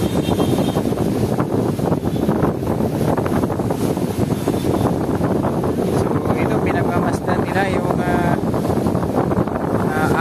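Steady, broadband wind roar buffets the microphone throughout at Manila Bay, with a voice talking faintly beneath the gusty rumble.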